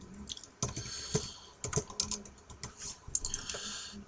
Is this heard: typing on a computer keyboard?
yes